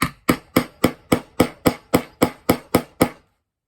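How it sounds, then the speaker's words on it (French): Hammer tapping a punch through card and faux leather, twelve sharp evenly spaced blows in a quick steady rhythm, close and loud, ending in silence. "en mettant des petits coups de marteau, ça devrait théoriquement faire le trou"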